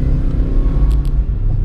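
Turbocharged car engine pulling from inside the cabin, a heavy low rumble that swells unevenly as the turbo lags before building power, with a couple of faint high chirps near the middle.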